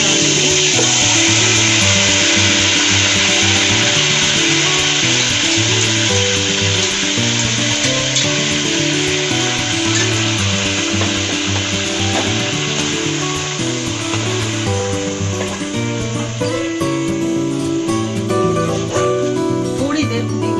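Chicken pieces frying in hot oil in a pan for Arabian chicken mandi, a loud, steady sizzle that runs throughout with light scraping and stirring, plus a tonal hum in the background.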